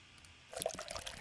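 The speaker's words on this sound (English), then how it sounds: "here you've got a 48K, 32-bit stereo wave already recorded of someone pouring liquid" Liquid poured into a glass, starting after a brief quiet lead-in and continuing as a close, bright splashing trickle with gurgling texture until the end.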